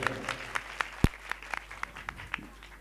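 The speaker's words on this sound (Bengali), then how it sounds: "জোরে হাততালি জোরে হাততালি" An audience claps in a steady, rhythmic beat at a Makar festival dance competition, with sharp evenly spaced claps and one heavier thump partway through.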